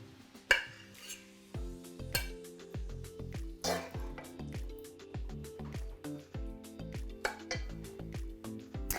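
Metal utensils scraping and clinking against a dish while slow-cooked beef cheeks with tomatoes are plated, a quiet, irregular series of close taps and scrapes with soft squishy food sounds, no talking.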